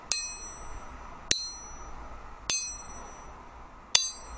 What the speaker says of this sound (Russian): Смотрите, какой у них звон.